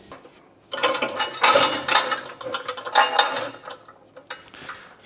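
Ratchet wrench tightening rear suspension bolts on a Subaru at ride height, with a rapid metallic clicking in several bursts over a few seconds, close and fairly loud, with no talk.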